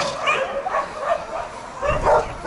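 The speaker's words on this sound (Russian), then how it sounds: "Маша упустила собачку из вольера" A small dog that has slipped out of its enclosure gives repeated high yips and short barks, close and fairly loud, mixed with whimpering across the whole clip and a faint low thump near the end.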